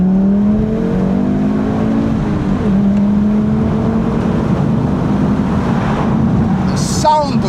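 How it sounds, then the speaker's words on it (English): Five-cylinder engine of an Audi TT RS accelerating through a tunnel, a loud, rising roar building in pitch as it revs, echoing off the tunnel walls and heard from inside the car with windows cracked open. "you can't beat the sound of a flipping 5-cylinder, a 5-cylinder 5-pot"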